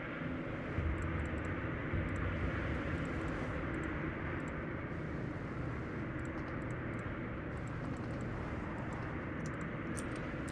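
Bomber aircraft in Steel Division II carrying a single 250 kg bomb, heard as a steady, loud droning engine hum with broadband rushing noise that holds even for the whole stretch.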